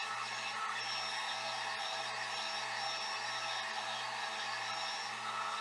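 A heat gun set on low runs with a constant airy whoosh and a soft underlying motor hum, holding an even level throughout with no talking.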